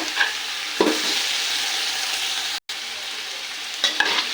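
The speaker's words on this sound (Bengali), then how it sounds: "এখন আমি শাকগুলো রেখেছিলাম সেই শাকগুলো দিয়ে দিব।" Bottle gourd greens stir-fry with browned onions in a pan, a steady close sizzle punctuated by a few sharp scrapes and taps of a spatula and one brief gap.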